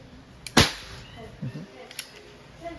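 A single sharp shot from an Umarex Walther CP88 .177 CO2 airgun pistol, fired in single action, lands as one loud crack early on, followed by a quieter click and faint background noise.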